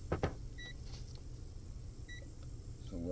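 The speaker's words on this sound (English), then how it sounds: "Fire up the old multimeter here." An old digital multimeter switched on while troubleshooting a Ducati ST4s motorcycle with no start, giving short electronic beeps: a pair of brief tones near the start and again about midway, over a steady low workshop hum.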